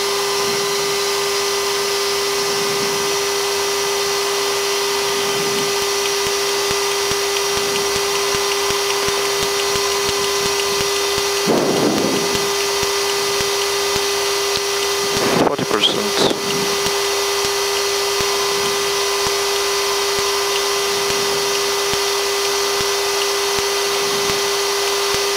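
An aircraft turbine engine starts up and runs with a steady, droning whine and a constant hum. Occasional faint voices sit under the engine noise.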